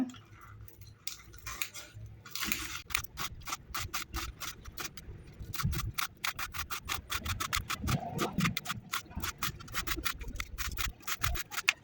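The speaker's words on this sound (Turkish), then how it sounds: "Şimdi yumurta salatam için soğanlarımı getirdim. Bunları da doğrayacağım şimdi." Rapid, even knife chops through onions on a cutting board, a steady rhythmic tapping that speeds into a dense run of strokes, close up with no speech.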